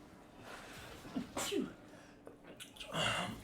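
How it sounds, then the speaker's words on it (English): A single sneeze bursts out amid quiet room noise, followed by a few faint sniffs and shuffling sounds. "I'm sneezing all over the place up in here."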